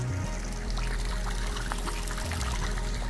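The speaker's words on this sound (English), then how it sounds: "This is just a little bit of a trickle, kind of gives it a nice little audio." Water trickling over quarried granite stone beside a beach house swimming pool, a steady, fairly close splashing flow, slightly uneven in texture, with no talk.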